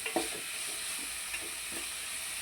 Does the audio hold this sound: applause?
no